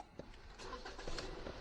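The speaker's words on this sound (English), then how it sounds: "And now we can start. Engine turn on," A car engine cranks and starts during a battery and alternator check, a short, fairly quiet turnover followed by a steady idle.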